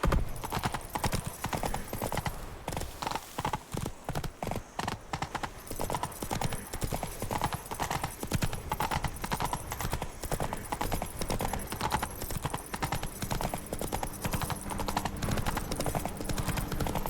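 A horse gallops in The Witcher 3 video game, its hooves beating a fast, steady clip-clop rhythm that stays loud and close throughout, with a brief voice near the start.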